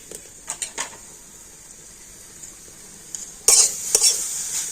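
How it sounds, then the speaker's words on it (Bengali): Coconut and jaggery filling being stirred in a pan for a sweet pitha, with a few scraping spoon strokes at the start, then a louder scrape and sizzle near the end, close and alone with no talk. "আর এবার আমি নারকেল আর আটের গুড়টা ভালো করে মিশিয়ে নেবো আর এবার একটু নাড়াচাড়া করলে তো আখের গুড়টা খুব সুন্দর গলে যাবে"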